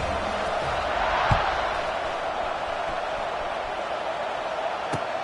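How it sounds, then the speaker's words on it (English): Steady crowd buzz fills a college football video game stadium before a kickoff, a broad continuous roar with a brief swell near the start and a few faint thumps. "this crowd is buzzing after that last score"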